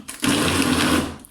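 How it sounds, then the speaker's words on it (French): Food processor blending cake mixture, a sudden loud steady whir that starts abruptly and runs for about a second before cutting off. "je mixe pour l'instant pour faire redescendre"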